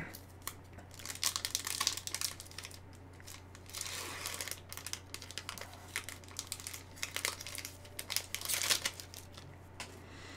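A Yu-Gi-Oh Kaiba collector box card pack being torn open, with faint, close crinkling and tearing of the foil wrapper in irregular bursts, louder toward the end, with no talking.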